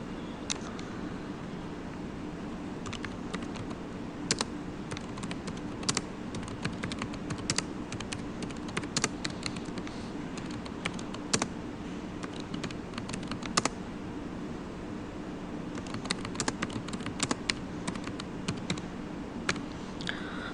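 Steady typing on a computer keyboard, a continuous run of close, crisp key clicks with brief pauses and denser bursts, no voices.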